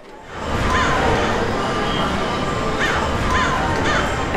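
Crows cawing at Disneyland, several harsh repeated caws heard at a distance over a continuous crowd hubbub, some calls spaced toward the end.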